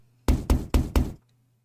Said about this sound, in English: The sound of knocking echoed through the mansion